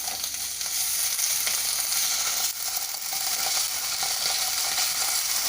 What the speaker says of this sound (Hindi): थोड़ा सा इसको जिंजर गार्लिक को फ्राई कर लीजिए।